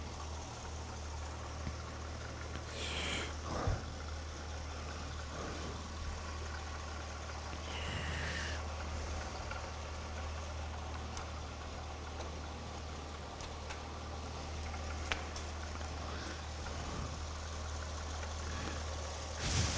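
A car engine idles steadily during a vibration test, a low, constant hum with a faint even throb, under occasional light clicks and handling noises nearby.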